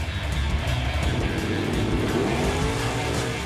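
Drag racing car at a Winter Nationals qualifying run, a loud, steady engine roar accelerating down the strip, with the drone sustained close and continuous throughout without any voices.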